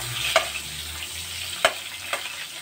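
Onion sizzles in hot oil in a pan, a steady close hiss broken by several sharp clacks as the pan is shaken or stirred.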